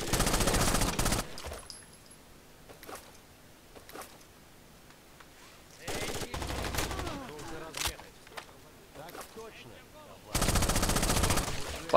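Bursts of rapid automatic gunfire in Rainbow Six Vegas 2, loud and close, open and close the stretch, with scattered single shots and thuds in the quieter middle.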